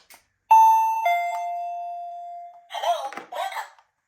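A newly bought battery-powered wireless doorbell with remote button rings a loud electronic chime, a high tone stepping down to a long sustained note, followed by two short bursts of another chime phrase.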